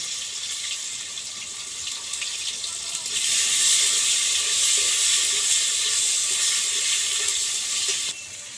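Nigella seeds sizzling in hot mustard oil for a Bengali fish curry, a steady bright hiss that swells louder midway and then drops back, with no talk.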